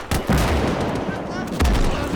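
Grenade blasts and gunfire in the WWII shooter Gates of Hell, in a Winter War trench fight on the Mannerheim Line at Summa: two heavy low booms punch through a steady crackle of rifle and machine-gun fire.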